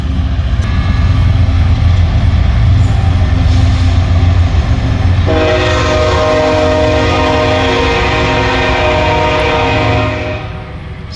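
A BNSF freight train rumbles past with a steady low roar, and its horn sounds loud and sustained from about five seconds to the end, layered over the rolling rail noise.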